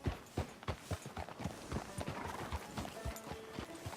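Horse hooves clip-clop in a steady walking rhythm on a dirt street in Red Dead Redemption 2, with a faint ambient town bed behind them and no talk.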